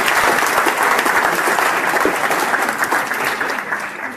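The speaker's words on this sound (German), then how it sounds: "Einen Applaus für Professor Dr. Joachim Herzberg" Dense applause from a lecture audience welcoming Professor Dr. Joachim Herzberg to a talk on artificial intelligence and neural networks, steady and full for about four seconds before easing slightly.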